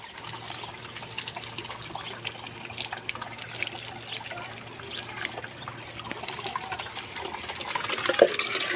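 Water poured from small containers onto farm animals outdoors, a steady low trickle and splash running through the whole stretch at moderate distance, with faint background noise and no talk.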